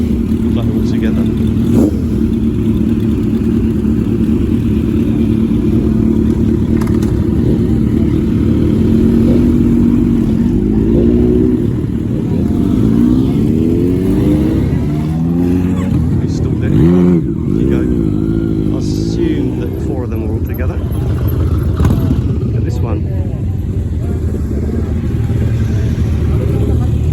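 Several Kawasaki motorcycles ride past on a street in Japan, their engines a continuous loud rumble that rises and falls in pitch as the bikes rev and move by, with someone talking over the noise.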